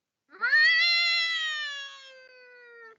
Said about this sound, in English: There goes that cat again.